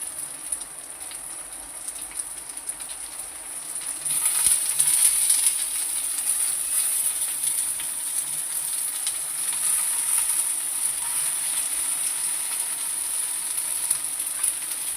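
Stuffed brinjals hiss and sizzle steadily in oil in a kadhai, close and continuous, with a brief louder burst of frying partway through and no talking.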